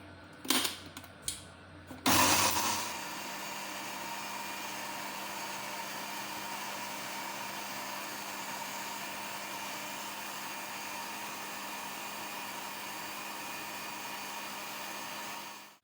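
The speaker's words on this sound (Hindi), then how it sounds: "अब इन सब चीज़ों को ग्राइंड कर लेते हैं।" Electric grinder blending black pepper, salt, garlic and oregano for shawarma white sauce, starting after a few short clicks and then running as a steady, loud continuous whir to the end with no talking.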